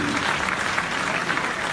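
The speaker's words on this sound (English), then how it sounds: "Ladies and gentlemen, put your hands together and please join me in applauding our partners" Dense, sustained applause from an audience at the 2017 IIFA awards show, loud and steady clapping filling the whole stretch with a faint murmur of voices beneath.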